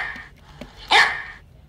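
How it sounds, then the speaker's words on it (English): A dog gives one sharp, close bark after a couple of faint yips, then falls quiet, with no talk over it. "here's my dog"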